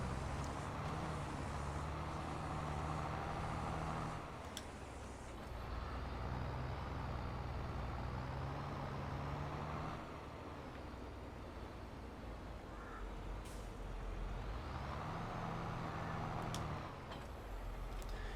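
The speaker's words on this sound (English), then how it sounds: "go get this big lorry down here" A big lorry in Farming Simulator 22 idles and revs, its engine a steady low rumble that swells and eases in a few long waves, with no talk over it.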